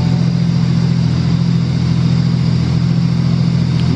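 A single-turbo Toyota JZX100 engine drones loud and steady on a dyno during a tuning pull, a sustained heavy engine roar held for the whole stretch with no voices.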